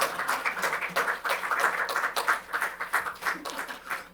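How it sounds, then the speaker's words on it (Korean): A church congregation claps during a Sunday service, a steady run of loud, fairly rhythmic group clapping that swells and dips in pulses, with a little voice underneath. "박수가 형식적으로 치는 것 같아요"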